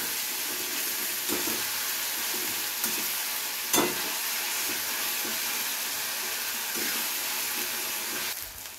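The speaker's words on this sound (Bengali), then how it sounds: "এবারে এই তিনটেকে খুব ভালো করে আমাদের ভেজে নিতে হবে।" Onion, ginger and garlic paste fries in a pan for a Bengali fish curry, giving a continuous close sizzle marked by occasional soft stirring knocks and scrapes.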